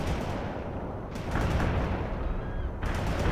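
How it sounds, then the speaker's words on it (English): Suppressing gunfire from the video game World in Conflict crackles as dense rapid bursts, loud and continuous, with sharp shots cutting through rumbling battle noise. "Laying down suppressing fire."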